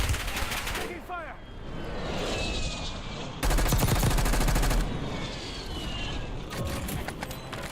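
Sustained rapid machine-gun fire in a video game, with rattling bursts throughout and one especially loud, dense volley in the middle, amid other battle noise.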